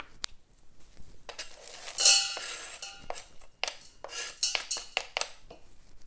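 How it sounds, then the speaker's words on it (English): A knife chopping a chocolate bar into small pieces on a board, with sharp irregular clicks and taps in quick bunches, close and fairly quiet, separated by short pauses. "I will just add one of my a little bit screwed up chocolate bars and chop it really small."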